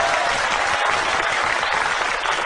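A live audience at a stand-up comedy show breaks into dense, steady applause, a continuous roar of many hands clapping together, close and loud.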